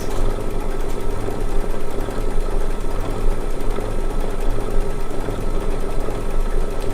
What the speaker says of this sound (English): The next one is just a little applique stitch around the circle here.